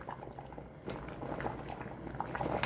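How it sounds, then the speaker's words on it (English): Water at a steady rolling boil in a pot with pasta, a faint continuous bubbling and gurgling with no speech. "Water's boiled."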